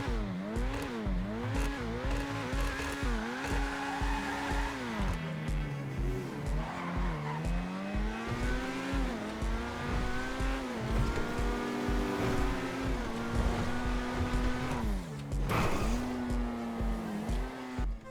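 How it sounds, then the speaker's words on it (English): Dewbauchee Champion sports car engine in GTA Online, a plain, rather basic-sounding motor revving up and down through gears with rising and falling pitch, accompanied by tire squeal, heard alone for a long stretch. "the car doesn't really sound that good. It sounds kind of basic."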